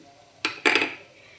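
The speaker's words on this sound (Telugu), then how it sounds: "గిన్నె పడిపోయింది" A metal pot clatters twice in quick succession, a short clang followed by a louder rattling crash that rings briefly and fades.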